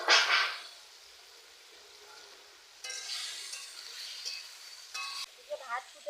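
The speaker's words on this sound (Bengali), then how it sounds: "আলু আমি ভেজে রেখেছিলাম, সেই ভাজা আলুগুলো ওই মশলার উপর দিয়ে দিচ্ছি।" Pre-fried potatoes go into spiced masala frying in a pan, giving a steady hissing sizzle that swells with stirring, then louder bursts as the pieces are moved around.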